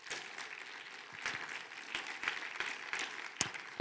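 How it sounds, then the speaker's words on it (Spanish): A church congregation applauds during a sermon, with scattered, moderately faint claps that build slightly toward the end. "Denle un aplauso al Espíritu Santo."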